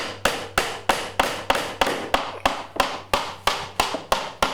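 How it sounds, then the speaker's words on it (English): Six-penny nails hammered into wooden crown molding during trim work on a shingle-style house, heard as a fast, steady series of sharp hammer strikes at close range, each ringing briefly, with no talking. "Putting in a 6-penny nail there"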